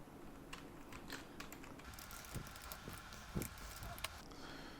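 Keys tapped on a computer keyboard while writing lines of text into Notepad, a steady run of quiet clicks at close range with no talking.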